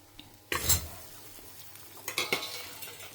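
Turmeric and asafoetida fry in hot oil in a pan, a soft low sizzle under two bursts of a spoon clanking and scraping against the metal, close by and without speech.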